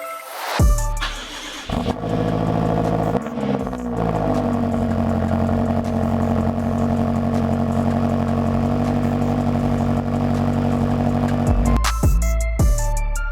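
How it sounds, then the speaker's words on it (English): A tuned 702 hp 2016 BMW F85 X5M fires up after a rebuild: a starter whir, a sharp loud catch and flare, then a low, steady rumbling idle close by that runs evenly until a final blip near the end. "Let's go ahead and test out the car now"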